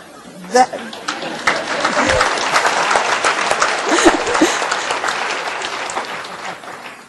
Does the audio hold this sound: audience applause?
yes